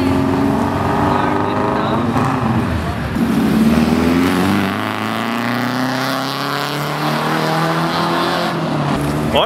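A big car engine revs loudly and steadily at a street car meet, droning close by with a voice talking over it.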